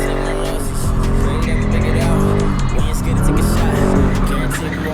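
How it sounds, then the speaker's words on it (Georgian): A Dodge Charger SRT 392 drifts on rain-soaked pavement, its V8 engine roaring loudly and steadily while the tires squeal and skid throughout. "გაგვიწვიმდა ეხა, მაგრამ წვიმა ჩვენ დრიფტს ვერ შეაჩერებს."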